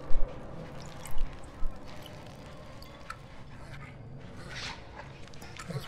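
Dog named Dinky Di in Mad Max, soft whimpering and small wet squishy noises with a few short louder yelps near the start, close by and fairly quiet.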